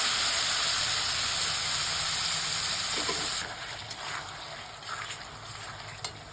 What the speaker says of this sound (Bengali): এবার মশলাগুলো আমি ঢেলে দিলাম, যেগুলো আমি জলের মধ্যে মিশিয়ে রেখেছিলাম একসাথে।